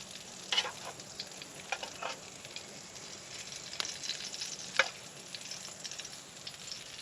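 Polish sausage and jalapeno fry outdoors in a cast iron skillet, giving a steady, close sizzle with scattered pops and crackles and a few stirring scrapes, with no talk.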